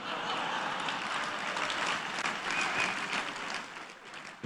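Comedy club audience applauding, a fairly quiet but steady wash of clapping that holds for a few seconds and thins toward the end, with a voice faintly over it.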